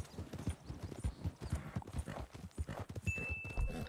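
Horse hooves clip-clopping in Red Dead Redemption 2, a quick steady run of hoofbeats at a trot or gallop, close and loud throughout with a faint high tone near the end.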